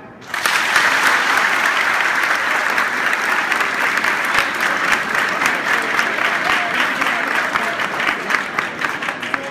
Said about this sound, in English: Will you clap?